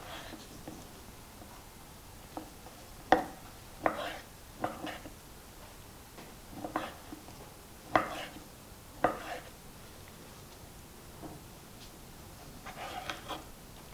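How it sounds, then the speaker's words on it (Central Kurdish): A knife chops chicken breast into squares on a board, a dozen or so sharp close taps spaced irregularly against quiet kitchen background, with no talking. "دەستەکەم بە وردکردنی سینگەکەم"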